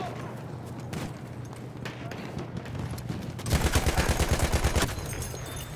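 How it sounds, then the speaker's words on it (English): A light machine gun fires in Battlefield 1, a sustained rapid burst of roughly a dozen punchy shots loud in the foreground, preceded by softer game ambience and distant gunfire. "I don't think I actually played with this LMG yet"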